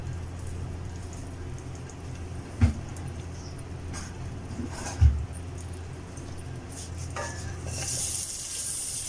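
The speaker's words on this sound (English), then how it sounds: "I love these sizzling voices" Room-temperature butter melts and sizzles in a pot with a steady crackling hiss, a couple of sharper clinks or stirring knocks, and the sizzle brightening toward the end.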